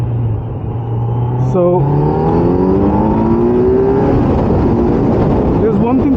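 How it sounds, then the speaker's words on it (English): Kawasaki Z900 motorcycle engine on a ride, a loud steady drone whose pitch climbs in rising harmonic sweeps as the bike gains speed, with a brief voice near the start. "we are out today on a short spin on the Z900"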